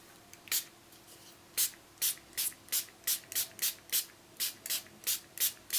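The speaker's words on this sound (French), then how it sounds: "j'ai simplement rempli un petit vaporisateur avec de l'alcool standard. Et donc on va vaporiser." A small spray bottle mists rubbing alcohol onto ink-stained muslin, producing about a dozen short, crisp hissing pumps in a steady, regular rhythm, close up and alone.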